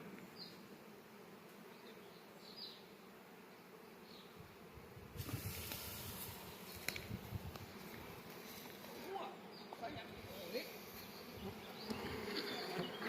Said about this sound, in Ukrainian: Знімаємо рій.